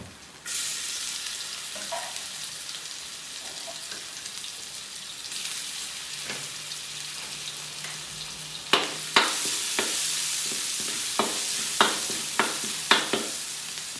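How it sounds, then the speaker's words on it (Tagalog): Garlic sautéing in leftover adobo oil, a steady loud sizzle that begins abruptly, with a run of crisp spatula taps and scrapes toward the end. "At dahil may mantika pa yan, dito na tayo magigisa. So maglalagay ulit ako dyan ng bawang."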